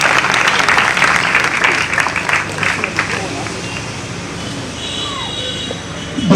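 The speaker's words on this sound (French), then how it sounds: "Applaudissez pour mademoiselle, s'il vous plaît." Guests at a wedding ceremony clap and cheer in a lively burst that gradually thins out, with voices in the crowd under the applause.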